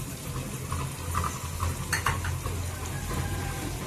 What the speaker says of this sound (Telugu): ఈ టమాటా కూడా ఇందులో కలిపి మగ్గించుకుందామండి